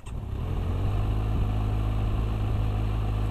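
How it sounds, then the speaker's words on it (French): Kawasaki Versys 1000 motorcycle engine starting up and settling into a steady, loud idle close by, a continuous low rumble with no talking. "Et maintenant c'est parti pour la démarrer."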